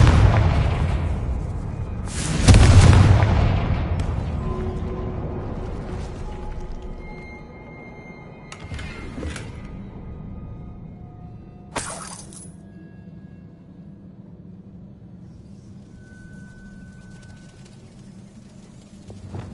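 A Confringo spell explosion in a video game bursts loudly near the start with a shattering crack and rumbling boom, followed by scattered debris crashes and a fading low tail.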